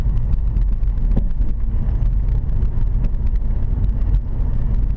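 A car drives steadily at 40 km/h, its interior filled with a continuous low rumble of engine and road noise plus some wind buffeting, heard alone without speech.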